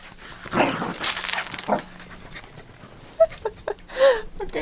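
Dogs barking in short bursts around a van camper during a floor-heating build, a few sharp yips and barks spread unevenly, fairly close, with some faint background noise between them.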